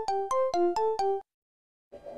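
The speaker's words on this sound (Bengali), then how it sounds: "বাবা আমার ফোনটা বাজতেছে।" A mobile phone ringtone plays five quick, clear melodic beeps in a row, then breaks off into silence before a faint rustle.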